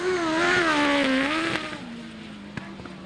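A grasstrack sidecar outfit races past at a meet, its engine a loud rising and falling whine that peaks close by, then drops in pitch and fades as it pulls away, with a couple of sharp clicks near the end.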